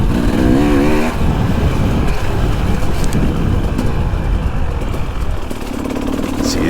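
A 2017 KTM 300XC carbureted two-stroke dirt bike engine revs loudly and continuously up close, a low grunting drone with some wind noise over the microphone.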